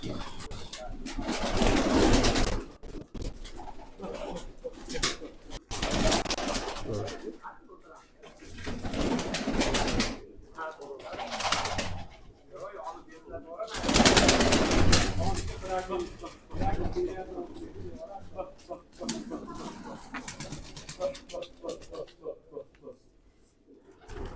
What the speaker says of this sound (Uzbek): Tinchlik aka, kaptarlar zo'r chiqibdi-yu